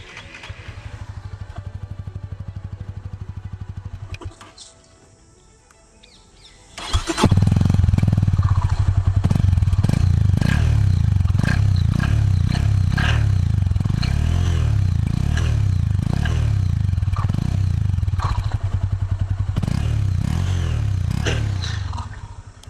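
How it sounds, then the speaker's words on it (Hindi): A Honda CB300F motorcycle engine, run on E85 flex fuel with a stock exhaust, idles, cuts out briefly, then fires up and rumbles loudly with revving bursts and a throaty exhaust note, close by. "this is the raw exhaust note of Honda CB300F"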